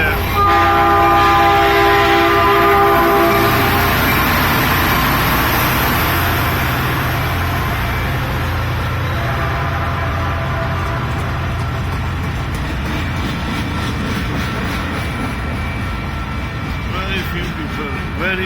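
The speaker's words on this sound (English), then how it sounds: "simultaneously the train has also started moving" A train at a local railway station in Sunnyvale, California rumbles and begins to roll, with a horn or whistle tone early on and people talking over the steady, loud rail noise.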